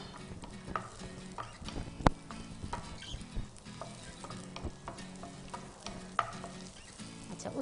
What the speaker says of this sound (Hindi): गाजर डालने के बाद हम इसको थोड़ा सा सौते करेंगे